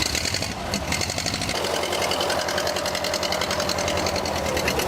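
Original engine of a vintage World War era military vehicle running steadily, a close, loud rhythmic chugging and mechanical clatter that settles into an even idle partway through, with no talk over it.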